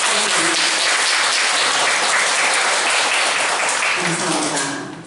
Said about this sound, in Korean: 박수를 하나님께 영광으로 돌리시겠습니다